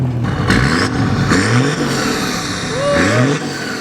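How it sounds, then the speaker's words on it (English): A VW Syncro Vanagon van's engine revs up and down in repeated rising sweeps, close and fairly loud, with some talking over it. "Good van rev."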